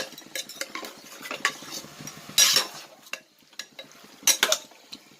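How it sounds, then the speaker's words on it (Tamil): Mutton sautéing in a pan for a curry-leaf mutton curry, stirred with a metal spoon that scrapes and clinks against the pan in irregular bursts over a soft, steady sizzle, heard close up. "மட்டன் நல்லா வதக்கிடணும்."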